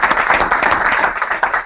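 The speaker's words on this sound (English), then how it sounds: "can we get some claps here?" A conference audience at an SEO live event in Boston applauds, a dense and loud roomful of clapping hands that holds steady for under two seconds.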